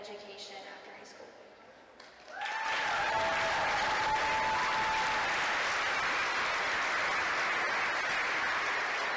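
Applause from a high school volleyball crowd honoring Panther and Blue Lion seniors in a gym: a quiet moment with a voice and tones, then a sudden swell into loud, sustained clapping and cheering.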